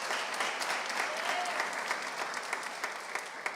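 A church congregation claps together after a sermon, a steady, moderately distant patter of many hands with faint voices mixed in, fading slightly toward the end.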